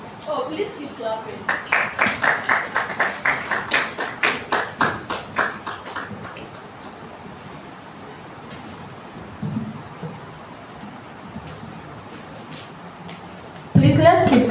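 A seminar audience at a live financial leadership masterclass claps steadily for several seconds in a rhythmic, fairly close burst, then fades to room tone with faint stray claps before a loud noise at the very end.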